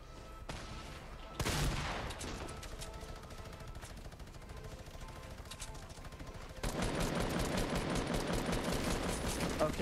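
Minigun fire in a Fortnite battle royale match: continuous rapid automatic bursts that run the whole time, with a heavier, louder stretch of sustained firing toward the end.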